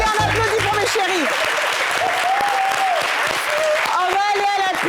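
A studio audience claps steadily and loudly throughout under a French television talk show, while voices talk and cheer over the applause.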